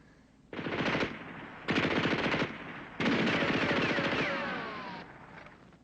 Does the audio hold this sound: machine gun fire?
yes